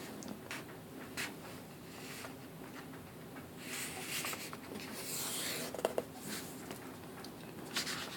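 A sheet of paper is folded in half lengthwise to begin a paper airplane. Soft rustling and rubbing continue quietly and close by as the crease is pressed, with no speech.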